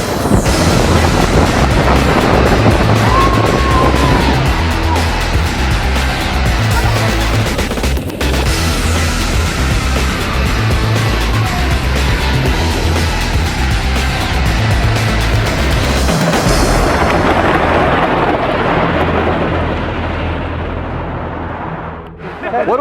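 Cyclone, an Art Deco wooden roller coaster at Lakeside Amusement Park, roaring along its track with loud continuous rumbling, clattering and wind rush that fades out near the end, with people talking and shouting faintly over it.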